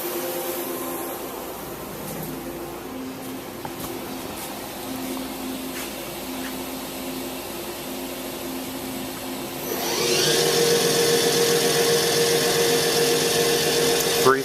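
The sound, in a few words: Daewoo DMV5025-50 CNC vertical mill spindle running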